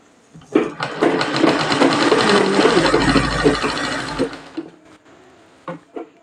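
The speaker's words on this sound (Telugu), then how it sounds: "ఇలా మరో కుట్టు వేసుకుందాం" A sewing machine runs in one sustained, loud, close burst of rhythmic mechanical whirring while stitching a six-year-old girl's frock, followed by a few light clicks.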